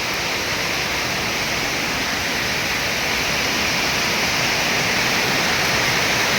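Loud, steady rush of fast-flowing water, a continuous broad roar close by with no voices.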